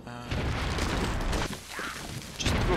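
Bomb blast in the Enclave video game, a loud booming burst with crashing debris filling the whole clip, followed by further impacts and mechanical clatter, all at high volume.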